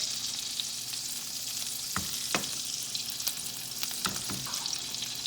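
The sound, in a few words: salmon frying skin side down in clarified butter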